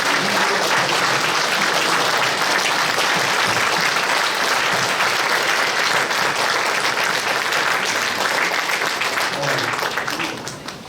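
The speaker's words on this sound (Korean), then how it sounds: "우리 다 같이 우리 박수를 한번 힘있게 해주세요" Standing ovation at a church council general assembly in Korea, a large hall filling with dense, loud, sustained clapping from the whole crowd for about ten seconds before easing off at the end.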